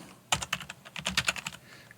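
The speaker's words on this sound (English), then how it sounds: "now I'm going to type in all caps" Rapid typing on a computer keyboard, an uneven burst of crisp close key clicks after a brief pause, with a few slower taps trailing off at the end.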